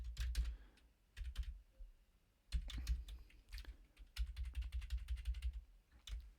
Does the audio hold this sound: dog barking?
no